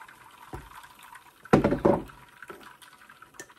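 Coconut milk pours through a big strainer in a kitchen, a brief loud splashing gush followed by light trickling and drips.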